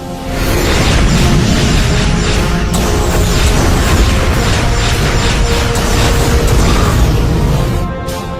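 Starship weapons fire and explosions in a sci-fi space battle: a dense, continuous roar of blasts, booms and whooshing bursts, loud and sustained throughout without a pause.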